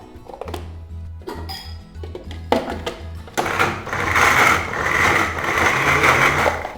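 A blender grinds chocolate peanut butter brownie batter in short stop-start bursts, then runs steadily and louder with a thick churning whir, close by.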